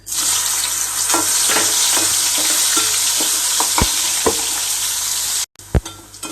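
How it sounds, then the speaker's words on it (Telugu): Soya chunks (meal maker) fry in hot oil until golden, a steady close sizzle dotted with spoon clicks and scrapes that cuts off abruptly near the end, followed by a couple of louder taps. "ఈ మిల్ మేకర్ గోల్డెన్ కలర్లోకి వేగిపోయినాయి కదండి"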